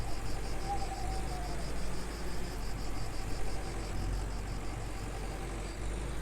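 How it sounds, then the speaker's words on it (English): Tractor engine running steadily while hauling a grain trailer in the farming game Farmer's Dynasty, a continuous low drone with a faint chirping insect-like pulse above it throughout. "this is pretty much all I use this tractor for, is hauling the grain trailer around"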